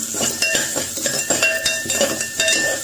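Onion being sautéed in a pressure cooker, with steady metallic clinks and scrapes of a spoon against the pot in a busy, close rhythm.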